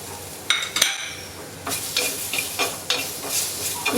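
Tomatoes stirred into a sizzling fish curry masala for ribbon fish curry, with a spoon scraping and clinking against the pan at a steady pace over a constant frying hiss, close up.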